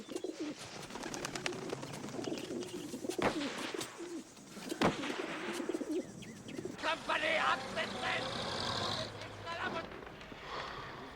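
An English carrier pigeon coos softly in a wartime battlefield setting, its calls mixed with other bird sounds and busy background noise while people talk over it.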